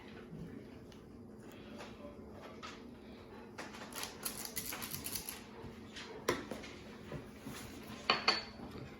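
A spoon scrapes and scoops through frozen homemade ice cream in a container, giving scattered close clinks and scraping bursts that grow louder toward the end, with no talk.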